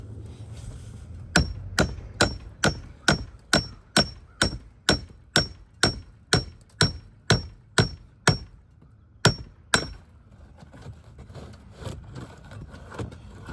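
A hammer pounds out a nail during a roof repair, about twenty sharp, evenly spaced strikes in a steady rhythm, loud and close, then a pause, two more blows and a low rumbling background.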